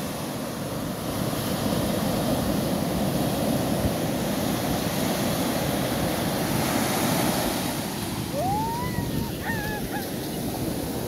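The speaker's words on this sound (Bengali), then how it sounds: "এই যে দেখতে পাচ্ছেন সমুদ্রের পানির ঢেউ" Ocean surf at Cox's Bazar beach rolls and breaks in a steady, loud wash with wind noise, while a few faint bird calls rise briefly near the end.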